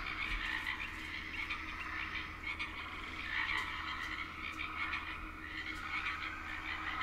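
Frogs croak in a dense chorus within a swampy setting in The Sims 4, a steady layered trill of many calls at moderate distance, fairly quiet and continuous with no voices.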